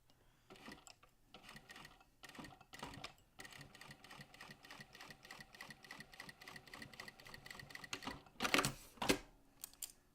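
A sewing machine basting fabric for a bag with a 1/8 inch stitch, running in steady rapid bursts of stitching with short pauses between, close and clear, without talk.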